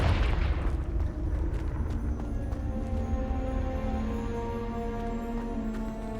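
Confringo explosive spell cast in Hogwarts Legacy: a loud booming blast at the start that rolls off into a long rumbling tail, with game music tones sustained underneath.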